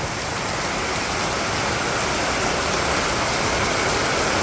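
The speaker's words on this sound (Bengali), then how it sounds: "একটু আগে তো দেখছেন বৃষ্টি গেছিল গা আবার বৃষ্টি" Steady rain falls on a village on a rainy day, a dense, even hiss that stays loud and unbroken from start to finish, with no voices.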